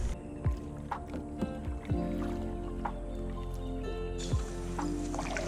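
A brand new kayak is paddled on a backwater lake, with soft rhythmic paddle strokes and drips of water sounding close by over a low steady background hum.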